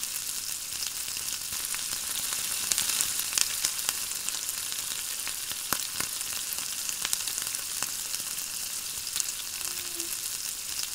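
Chopped onions frying in hot oil with tempering spices for a Telugu ridge gourd milk curry, giving a steady, moderate sizzle with faint crackles and pops throughout, no voices.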